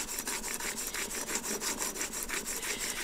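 A blade is stroked back and forth across a 1000 grit sharpening stone, making a quick, rhythmic rasping scrape of about five strokes per second that carries on steadily, close and clear with no talk.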